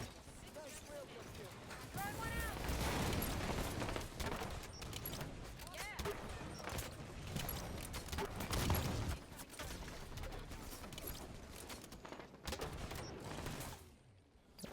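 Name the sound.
Pro Pipe grenade launcher firing in Halo 5 video game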